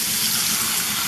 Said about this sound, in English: So we're going to turn the water on.